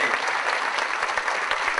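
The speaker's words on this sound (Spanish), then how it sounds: "Yo quiero nuevamente un aplauso" Steady audience applause fills the room at the closing ceremony of a national community water management meeting, a dense, even patter of many hands clapping together.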